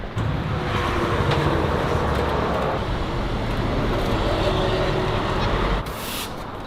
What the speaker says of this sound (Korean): 지점장님이 전시차 좀 이동시켜 놓으라 그래가지고